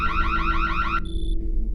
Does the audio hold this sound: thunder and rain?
no